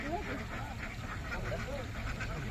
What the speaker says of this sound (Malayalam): പാടത്ത് ആയിരക്കണക്കിന് പതിനായിരക്കണക്കിനായ താറാവുകളുടെ സ്വൈര്യ വിഹാരമാണ്